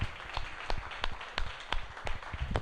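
A church congregation applauding the Lord during a sermon, heard as a run of sharp, separate claps at an uneven pace, fairly close, with no talk over them.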